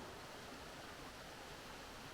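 Water flowing along a bushland creek, a steady broadband rushing wash with no pauses, faint and continuous, with no voices.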